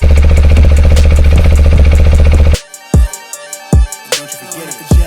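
A TVS Apache RTX 300 motorcycle engine runs loud and steady at idle, then cuts off abruptly, followed by several sharp, distinct knocks or clunks spaced irregularly.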